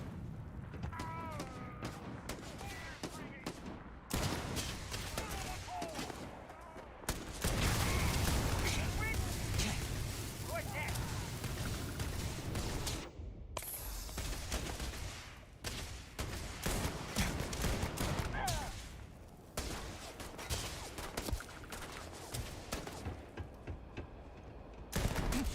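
Gunfire in the video game Starfield, with bursts and booms in a dense, loud firefight that runs nearly throughout under a speaking voice.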